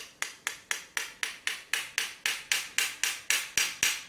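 Hammer blows tapping on a 12-pin Bi-Lock bullet cam lock, about sixteen sharp metallic strikes in a steady, fast rhythm, close and fairly loud, with no talk.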